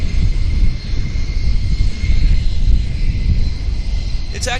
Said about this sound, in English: This is WestJet 1788, flight 1788 heading to Las Vegas.